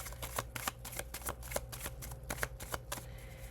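Tarot cards being shuffled by hand nearby, a brisk run of papery riffles and slaps in an uneven rhythm, with no talking over it.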